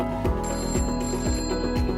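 A telephone bell rings in quick repeated trills, bright and steady, close and alone without any talk.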